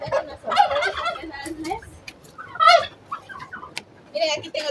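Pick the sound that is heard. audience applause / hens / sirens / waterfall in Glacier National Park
hens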